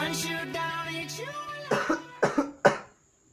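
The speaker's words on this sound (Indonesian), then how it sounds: "Kali ini dan hari ini gua lagi batuk" A person deliberately coughs in a parody of different cough styles: three or four harsh, close coughs in quick succession after a stretch of voiced humming, ending in silence.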